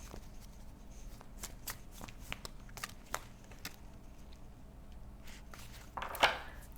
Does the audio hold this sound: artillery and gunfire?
no